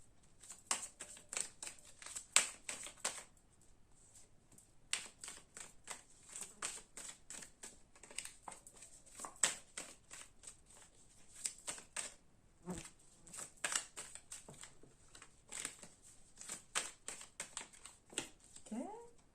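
Druid tarot cards slide and riffle as they are shuffled and laid out, producing rapid dry papery flicks and taps in close, uneven bursts, with a voice talking at times over the quiet card handling.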